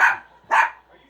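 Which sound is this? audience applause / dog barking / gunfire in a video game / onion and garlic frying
dog barking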